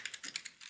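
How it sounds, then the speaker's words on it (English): Fingers tap rapidly on a computer keyboard, a quick run of soft, close keystrokes with no voices. "I'll press enter on the keyboard"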